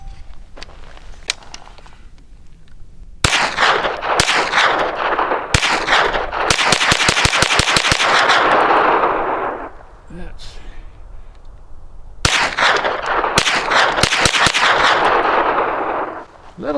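A 9mm pistol fired at targets on a hillside with Herter's FMJ rounds, sharp loud shots in quick uneven bursts, some rapid strings, with echo rolling back between volleys.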